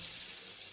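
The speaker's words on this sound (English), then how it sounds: "now I'm gonna add in my ingredients, which is 3 tablespoons of unsalted butter. And I'm gonna let that melt down" Three tablespoons of unsalted butter melting in a pan, giving a steady, even sizzle and hiss that stays constant and close throughout.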